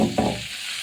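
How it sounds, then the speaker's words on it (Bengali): Drumsticks and potatoes being stirred in a curry pan give a soft scrape and sizzle, one brief stir near the start fading into a quieter hiss. "এবার আমি সজনে ডাঁটাটা দিয়ে দেবো এর ভিতরে, নেড়ে চেড়ে নেবো একটু।"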